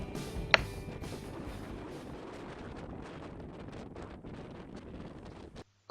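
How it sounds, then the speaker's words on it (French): Strong wind buffets the microphone near a cliff edge on a Moroccan mountain trek, a steady loud roar that blows without a break for several seconds, then cuts out abruptly at the end. "Le vent souffle beaucoup en s'approchant du bord."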